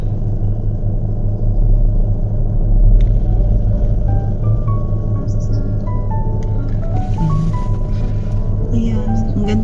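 Steady traffic on an elevated Manila-area skyway, with a constant low engine rumble from surrounding cars and a passing vehicle, heard from inside a moving car with no talk.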